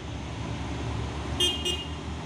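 A heavy 8x4 truck laboring up a steep hill road in the morning: a low, steady engine rumble dominates, with two brief high horn toots from nearby traffic partway through, and no speech.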